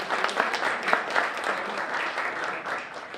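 An audience at a talk on data protection law claps, a moderately quiet, continuous round of applause from a group, with a few sharper claps standing out early on.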